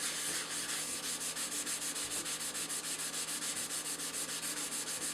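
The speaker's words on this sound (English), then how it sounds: "So I'm going to go ahead and just clean the rest of the stone. Again, apply some more Barkeeper's Friend and just get to work." A ceramic sharpening stone is scrubbed with Barkeeper's Friend cleanser, giving a steady, close rasping rub that repeats in quick regular strokes for the whole stretch, with no talking.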